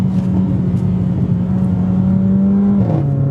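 A Mercedes A45 AMG engine revs up through the gears, a loud close drone holding pitch, then dropping briefly at a shift near the end.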